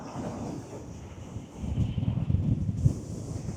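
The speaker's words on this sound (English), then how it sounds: "It's a bit windy." Low, rumbling wind buffeting the microphone beside a lake in Landmannalaugar, Iceland, growing stronger and gustier in the second half, with no voices.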